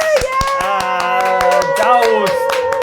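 A studio audience applauds in a television talk-show setting, steady clapping running throughout while a presenter's voice and tonal sounds carry over the top.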